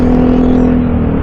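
Two motorbikes pass by on a mountain road in Tinoc, Ifugao, making a steady, close, loud engine drone with a whirring hum that continues throughout and fades a little toward the end.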